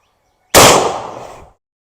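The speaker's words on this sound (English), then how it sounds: "Let's shoot it across the chronograph into the ballistic gelatin." A single sharp, loud rifle shot from a Henry X lever-action in 45-70, fired through a chronograph into ballistic gelatin, cracks outdoors after silence and decays over about a second.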